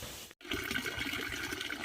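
Water runs down an artificial waterfall in a garden with raining and fogging features, a soft, steady splashing flow that is fairly faint and broken by a very short gap near the start.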